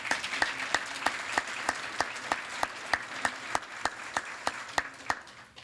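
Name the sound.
audience applause at ceremony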